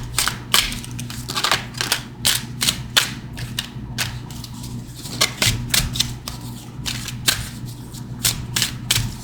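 Crystal oracle cards are shuffled by hand in a series of close, sharp riffling and slapping bursts over a steady low background hum.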